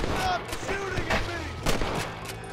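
Gunshots in Red Dead Redemption crack out in a quick scatter of sharp, loud reports, several close together, with voices talking between the shots.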